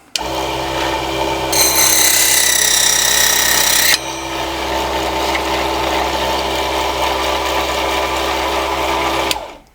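A mini table saw whines steadily as it cuts through a piece of wood, the high cutting roar rising sharply for a couple of seconds before settling back to the motor's idle hum until it stops.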